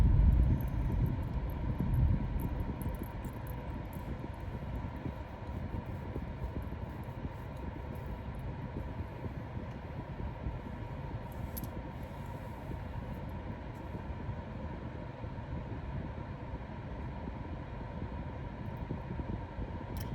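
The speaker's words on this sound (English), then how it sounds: "Got a big train up here that's going" A big train passes nearby with a steady low rumble and broad mechanical roar, loudest at the start and holding fairly constant throughout, with no talking.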